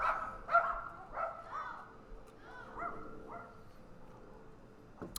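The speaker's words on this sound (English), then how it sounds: "apologies for the dogs and the air conditioners" Dogs barking and yipping at a distance outdoors in hot Nevada, several short barks early on that fade into softer yelps over a steady air conditioner hum.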